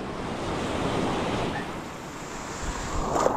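Steady, large ocean waves wash and rumble without pause at the shore in Palawan, with wind buffeting the microphone throughout.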